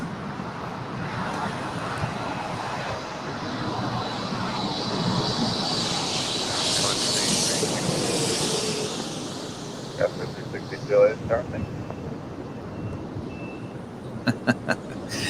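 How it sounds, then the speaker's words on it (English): A Japan Airlines Boeing 777-300ER in oneworld livery lands at LAX, arriving from Tokyo. Its distant jet roar swells and then fades, followed by a few faint beeps nearby. "That was Japan Airlines Flight 16 in the One World livery, coming in from Tokyo on a Boeing 777-300ER"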